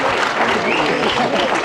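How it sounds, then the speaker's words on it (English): Applause for a high school basketball team at an athletic banquet, a dense, steady wash of clapping from a crowd filling the short moment with some voices mixed in. "Let's give one more round of applause to our basketball team"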